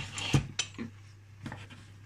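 A whisk scrapes and taps against a bowl while working softened butter, giving a few brief, fairly quiet metallic strokes over a low steady background hum.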